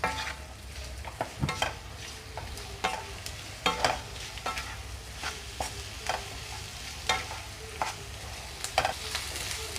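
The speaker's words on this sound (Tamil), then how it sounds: "அந்த போகிற வரைக்கும் கொஞ்சம் நேரம் சட்டியில் போட்டு வதக்கிக்கிட்டே இருக்கணும்" Potato masala is stirred and sautéed in a pan, with repeated close scrapes and clacks of the spoon against the pan over a low steady sizzle, no one speaking.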